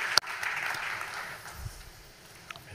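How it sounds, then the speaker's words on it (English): Audience applause at a business summit, a steady wash of clapping that starts strong and gradually thins out over a few seconds, with a sharp knock near the start. "let's give Sandra and Raphael another round of applause"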